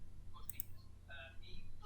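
A computer mouse clicks a couple of times, sharp and close, while someone speaks Spanish quietly in the background.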